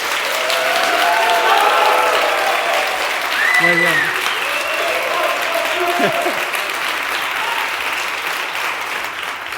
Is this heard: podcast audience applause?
yes